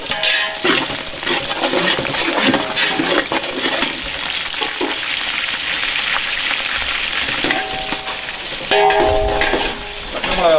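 Chopped green chillies and onions sizzle loudly in hot oil for chicken biryani, a steady frying hiss broken by stirring scrapes and clatter of a spoon against the pan.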